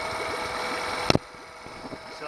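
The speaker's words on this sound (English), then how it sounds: "Right now the motor is idling very well." A DIY outboard motor with an Arduino Uno speed controller idles in cold water, giving a steady mid-pitched engine drone with a brief sharp clatter midway, after which it runs quieter.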